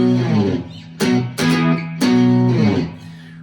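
Electric guitar on a clean channel plays power chords A5, B5 and E5 from a rock song, with three sharp strummed attacks, each ringing out, played alone.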